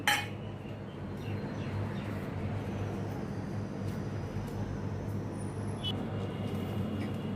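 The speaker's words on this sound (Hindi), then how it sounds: "इन सभी को भी मैं मिक्सी में डाल के इनके ब्रेड क्रम्स में बना लेती हूँ" A mixer grinder grinds slices of bread into crumbs, whirring steadily at close range, a constant motor drone with light rattling and clinking from the jar throughout.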